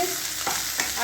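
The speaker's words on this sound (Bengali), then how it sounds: "ময়দা দিয়ে সোয়া সস দিয়ে ভালো করে মেখে এটাকে ভালো করে ভেজে নিচ্ছি" Chicken coated in egg, arrowroot, flour and soy sauce frying in a pan, a loud, dense sizzle with a couple of brief stirring scrapes, close and continuous.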